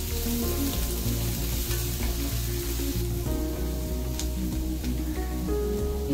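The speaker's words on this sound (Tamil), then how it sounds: "கொஞ்சம் லைட்டா வதங்கினா போதும்." Bread Manchurian ingredients sautéing in a hot pan, a continuous dense sizzle with light stirring scrapes, close and steady throughout, no voices.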